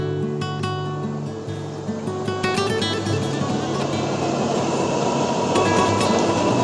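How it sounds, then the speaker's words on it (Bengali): A Delhi Metro train pulling into a station, rising rumble and wheel noise building steadily with tonal hums and faint squeals, growing louder toward the end. "দেখতে পাচ্ছেন মেট্রো ঢুকছে।"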